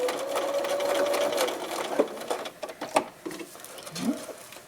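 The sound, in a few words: sewing machine stitching across the end of a fleece scarf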